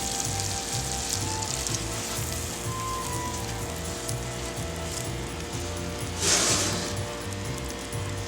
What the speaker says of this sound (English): We're going to stir this together and just let that butter continue to melt.